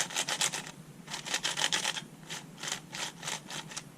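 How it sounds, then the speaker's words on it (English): Quick bursts of plastic swishing and rasping as the layers of a 3x5x7 twisty puzzle are turned, several short turns in a row, close and fairly quiet. "I'm just going to make a couple turns on this puzzle so you can hear the swishes"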